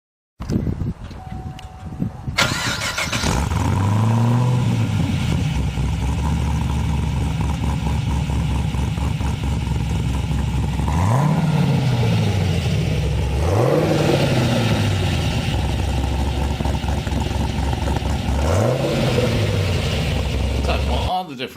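Chevrolet Camaro with a performance exhaust system starting up, then revving repeatedly in sweeping rises and falls over a loud, steady engine drone.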